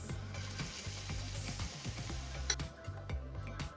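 Cottage cheese, apple and rhubarb pancakes sizzle steadily in a frying pan, a close, continuous crackle with faint ticking clatter of utensils throughout and no one talking.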